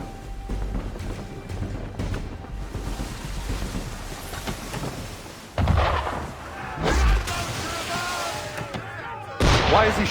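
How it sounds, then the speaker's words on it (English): Ship cannon fire at sea in Assassin's Creed III, several deep booming blasts spaced a few seconds apart over rushing wind and water, with voices talking in between. "Why is he shooting at us?"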